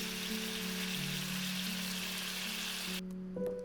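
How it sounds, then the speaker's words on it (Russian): Chicken seasoned with salt and black pepper fries in a pan, a soft, even sizzle under quiet background music that drops out near the end. "А пока курица жарится"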